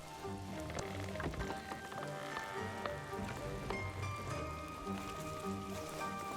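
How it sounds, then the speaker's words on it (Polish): Rain in the video game Old Man's Journey, a steady patter on surfaces running under a layer of melodic, tonal game music for the whole stretch, with no talk. "Ten deszcz, ta muzyka robi się tak dosyć niepokojąco."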